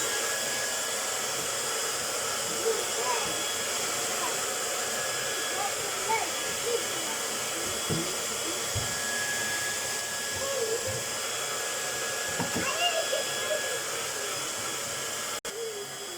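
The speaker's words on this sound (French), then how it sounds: "pour vous lisser les cheveux rapide avec un sèche-cheveux" A handheld hair dryer blows steadily while hair is straightened, a constant airy whoosh at moderate level, with occasional soft handling knocks and faint speech in the background.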